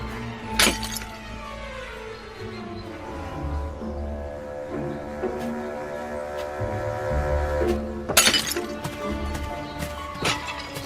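Objects being smashed in a backyard, with loud crashing and shattering impacts, a big burst near the start and another cluster later, over a steady rumbling, ringing din.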